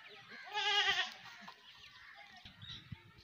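A goat on a goat farm in Hasilpur gives one loud, wavering bleat close by, followed by quieter shuffling and a few soft knocks.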